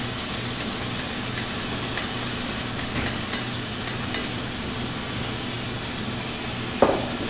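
Beef with its juices sizzling in a pan, a steady close hiss of frying with faint stirring and a brief clatter near the end, no voices.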